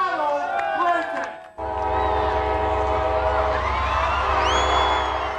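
Train on a presidential whistle-stop campaign tour through the South, its horn sounding in long sustained tones over steady low rumble, with a faint higher whistle rising near the end.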